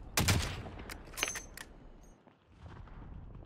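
In Call of Duty Warzone, a rapid burst of gunfire hits first, then a few separate sharp shots follow. Everything fades into quieter background rumble and faint movement, with no talk.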